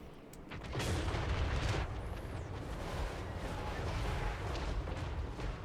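Artillery fires in a video game, a deep booming blast at the start that rolls into a sustained low rumble, fairly loud and with no talking over it.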